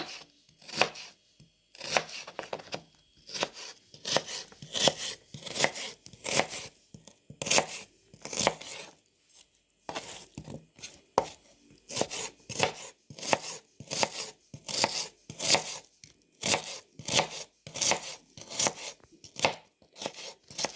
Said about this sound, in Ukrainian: Цибулю я нарізаю.